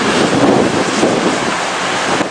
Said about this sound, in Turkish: Şehirde lodos vardı. Rüzgarın hızı gün içinde zaman zaman 82 kilometreye kadar çıktı.